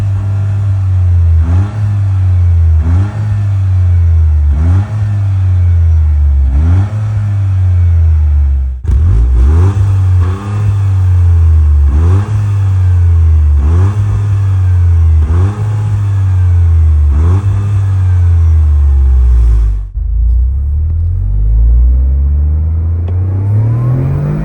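A 2024 Toyota GR Corolla hatchback accelerates hard through repeated gear changes, the engine note climbing and dropping in a rhythmic series of loud, close revving pulls before easing off near the end.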